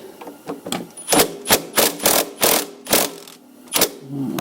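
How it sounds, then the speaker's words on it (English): A 3/4 inch socket works a bolt loose on a Bobcat T-250 skid steer during drive belt replacement, giving a run of close, sharp metallic clicks and ratcheting knocks in an uneven rhythm, with no talking. "I'm going to loosen that up now, and maybe we can get this belt on here. A 3/4 inch socket fits it."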